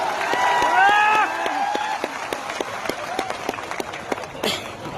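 An audience claps loudly and steadily at a land donation announcement for building Sadaram Dham at Totana, with a voice briefly heard over the opening of the applause before the clapping carries on alone.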